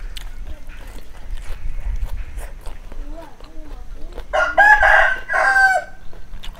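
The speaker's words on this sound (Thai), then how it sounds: "ไก่กับขันดีดี" A rooster crows twice in a rural outdoor setting, the calls clear and fairly close, with a few soft clucks and faint footsteps before and quieter background sounds throughout.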